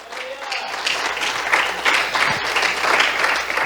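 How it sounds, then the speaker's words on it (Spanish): A church congregation applauds as an offering to the Lord, steady dense clapping from many hands filling the room at moderate loudness, with no talk over it. "Démosle una ofrenda de aplausos al Señor"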